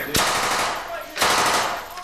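Blank gunfire during military urban combat training, two loud close bursts of rapid automatic fire about a second apart, each ringing on briefly.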